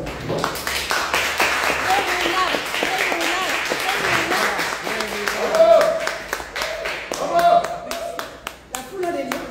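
An audience at a French press conference marking ten years of Sleeve breaks into sustained, loud applause with dense, rapid clapping that swells and fades over several seconds, with voices mixed in.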